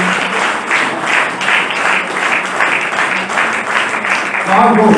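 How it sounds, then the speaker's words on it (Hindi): An audience in a hall at a Kavi Sammelan poetry gathering at Brahma Kumaris, Ambala Cantt, claps loudly and continuously in rhythmic swells, with a voice breaking in near the end. "इसलिए जोर से तालियां बजा देना"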